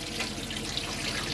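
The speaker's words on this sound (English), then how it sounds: "make sure your pump's on, which it is, and you'll get the water and it'll start pressurising." Water runs from a mixer tap in a Chausson Flash 03 campervan, a steady close hiss of flow with faint rhythmic pulsing from the pump underneath, no speech.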